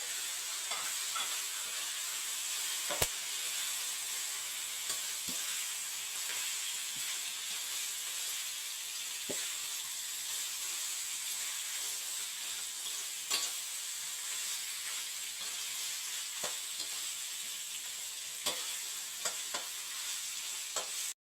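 Steady hissing sizzle of chicken and bamboo shoots stir-frying in a hot pan, with occasional scraping and stirring clicks, continuous and close, no talking.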